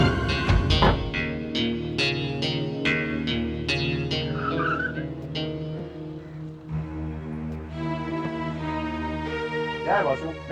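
A car speeds off with tires skidding and squealing beneath a dramatic music score that carries through the whole stretch, with a voice briefly heard near the end.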